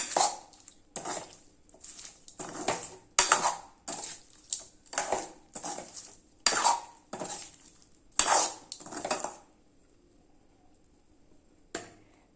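Drumstick (moringa) stir-fry with greens being stirred in a pan, a series of close, sharp scraping and clinking strokes in an uneven rhythm that pause near the end before one last clink.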